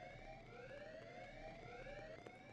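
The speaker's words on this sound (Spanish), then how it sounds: "La alarma de incendios." A rising-and-falling fire alarm in the video game Hitman 2: Silent Assassin wails continuously at moderate volume, its pitch sweeping in slow repeated cycles.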